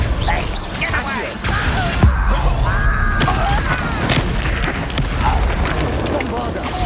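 Bombarda spell blasts in Hogwarts Legacy, a loud booming explosion amid busy combat noise, with sharp impacts and a rumbling low end; a voice speaks briefly through the fight.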